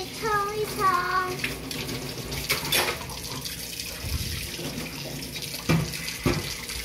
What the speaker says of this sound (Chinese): 打开水龙头，把东西冲一冲。